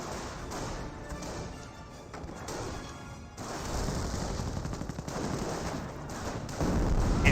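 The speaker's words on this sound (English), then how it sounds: "Incendiary mortar does come down." An incendiary mortar strike lands amid a Company of Heroes battle between Panzer Elite and British forces, heavy rumbling impacts and crashes mixed with scattered gunfire, continuous and fairly loud.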